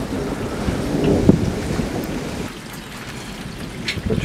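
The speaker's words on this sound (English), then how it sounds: "Got a wind burst here." Rain and wind gusting through a thunderstorm, a steady broadband rush that swells into a strong burst, then eases slightly, with faint distant rumbles beneath.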